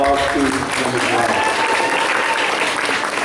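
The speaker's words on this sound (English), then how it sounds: "A round of applause to them as well." A school talent show audience claps for teachers, a steady wash of crowd applause that holds throughout, with some voices and cheers mixed in.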